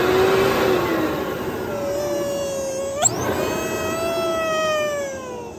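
A new Workhorse Cleartrak cyclonic vacuum runs with a steady drone, and a clear whooing tone rises and falls over it, sweeping up sharply once midway before settling back, close and alone with no talk.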